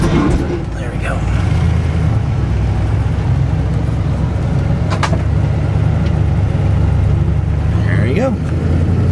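A 1988 TravelCraft Class B motorhome, a 20-foot RV, rolls down the road with a steady, loud engine and road rumble throughout, and a brief voice speaks near the start.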